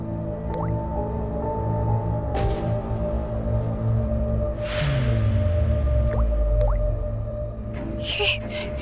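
Scattered drips and wet plops fall irregularly over a low humming background, with a few squishy splashes near the end.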